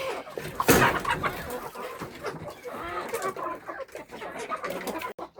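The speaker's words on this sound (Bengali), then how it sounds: "মিশু মুরগির এই জায়গায় কাকা করতেছে, আর জায়গা পায় নাই গা।" A desi hen clucks and cackles nearby in a home yard, with a loud burst near the start followed by continuing irregular clucks over rustling background noise.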